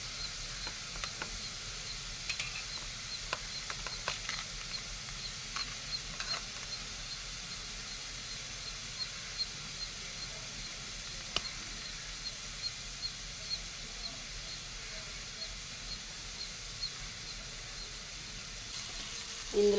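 Onions frying in a pan give a faint, steady sizzling hiss with tiny scattered pops and crackles, continuing quietly and evenly throughout with no talk.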